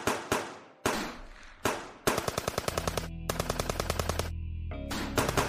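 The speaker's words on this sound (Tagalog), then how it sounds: "sunod-sunod na putok ng baril" Gunfire from a Filipino horror drama rings out loud and close: a few single sharp shots, then rapid automatic bursts rattle on in long volleys, with no voices heard.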